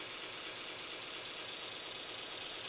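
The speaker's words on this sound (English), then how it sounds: "For this, I'm using a Scotch-Brite type 2x72 belt on that same Oregon belt sander." An Oregon 2x72 belt sander running a Scotch-Brite type belt to clean up knife bevels after heat treating, a steady, even abrasive hiss with a constant motor whir and no breaks.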